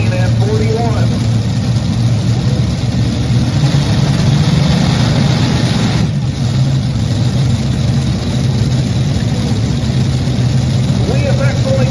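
A pulling tractor's engine runs loudly and steadily throughout a tractor pull event, a heavy low drone with a brief dip midway, while an announcer talks over it.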